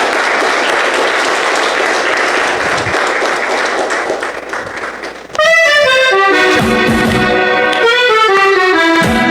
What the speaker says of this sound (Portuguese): Para o Senhor Jesus, uma linda salva de palmas em nome do Senhor.